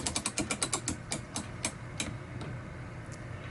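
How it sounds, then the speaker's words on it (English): An Ollie Baker style mainspring winder ratchets as it is wound, giving a quick run of close, sharp clicks that slows into a few spaced ticks over a low mechanical rumble. "You can change the ratchet for either direction. And we're just going to wind it up here."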